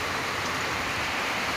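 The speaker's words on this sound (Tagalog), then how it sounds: "Malakas yung ulan dito" Heavy rain falls steadily as a dense, even hiss of water, continuous and close throughout with no voices.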